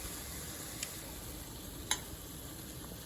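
Meatballs fry and brown in a pan with a faint, steady sizzling hiss and a couple of soft ticks, quiet and unbroken by speech.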